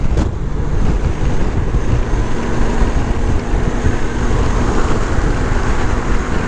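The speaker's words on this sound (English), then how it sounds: "Today I'm talking about our lovely little friend called wind." Steady, loud wind buffeting heard while riding a motorcycle, a continuous broadband roar with no pauses and no talk.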